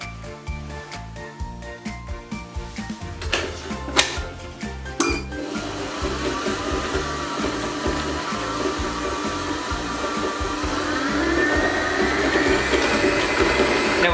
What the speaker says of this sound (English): Just mixing that until we can see the egg is fully combined into the mixture